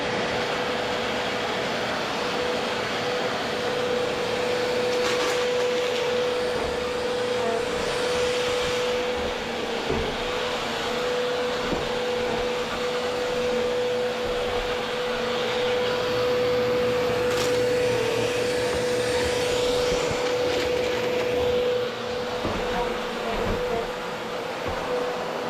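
A Bissell PowerLifter Pet vacuum cleaner running continuously, a steady loud motor whine and airy suction roar with a sustained tonal hum, close and unbroken throughout.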